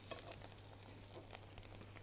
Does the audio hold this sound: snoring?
no